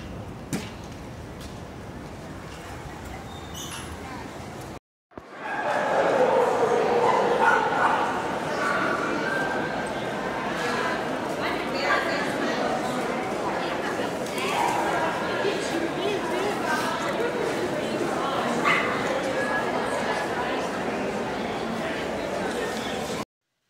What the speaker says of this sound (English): There's like dogs everywhere, all different breeds.